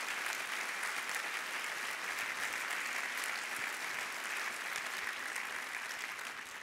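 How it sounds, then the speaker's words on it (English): A city audience gives staff a sustained round of applause, a dense, even wash of many hands clapping that holds steady throughout with no speech. "let's give them all a round of applause"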